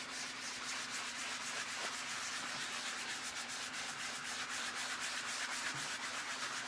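Steady, continuous rubbing as Gamblin cold wax is buffed onto a painting, a close, even scratchy swish with no pauses.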